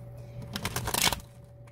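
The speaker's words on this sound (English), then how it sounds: "So, one more shuffle here and we will be ready to go." Tarot cards being shuffled, a short, close burst of riffling and papery flicking that builds to a quick flurry and then stops.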